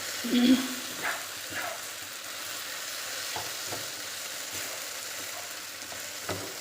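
Okra (bhindi) sizzling and frying in a pan, a steady soft crackle with occasional stirring clinks, quiet and close, no talking.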